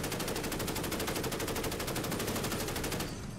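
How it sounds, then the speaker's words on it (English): A vehicle-mounted gunner's weapon in the DCS combat simulator fires one long unbroken burst of rapid automatic rounds, loud and dense, for about three seconds before cutting off abruptly. "I can actually use that gun."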